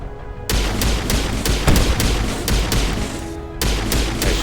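Rapid bursts of gunfire in the Mass Effect video game, a dense volley of close, loud shots with a few brief pauses, from a squad firing in combat.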